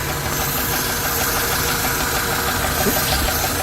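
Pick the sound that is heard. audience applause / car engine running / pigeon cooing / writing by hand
car engine running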